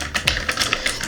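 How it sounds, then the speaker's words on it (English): Crisp, rapid clicks of a Stoga budget mechanical gaming keyboard with blue switches, a quick burst of half a dozen sharp keystrokes close to the mic. "so it has blue switch, so it makes like more clicky effect"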